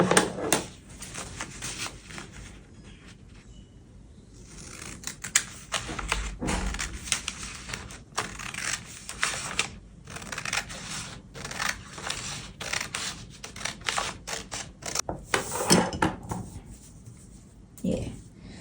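Scissors cut through fabric for a white tent dress, giving close, irregular snipping and crunching with rustling cloth in between, continuing for about eighteen seconds.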